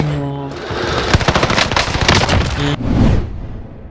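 Vanguard OWEN submachine gun firing in Call of Duty: Warzone on Rebirth Island, a loud rapid continuous burst of automatic fire lasting a few seconds, then a brief trailing shot.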